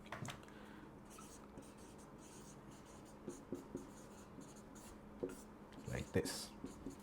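Chalk or marker strokes on a board as a physics equation is written out, soft scratchy taps and short rubbing bursts in an irregular rhythm, growing busier toward the end, with a quiet room behind.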